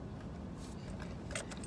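Keys jangling near a running car, brief metallic clinks and rattles over a low steady rumble, fairly faint.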